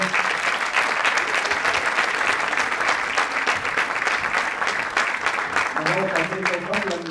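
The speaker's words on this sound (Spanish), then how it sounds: "quiero pedir un gran aplauso para todas las bailarinas que participaron del espectáculo" Audience applause at a dance show, steady dense clapping that fills the whole stretch, with a voice speaking briefly near the end.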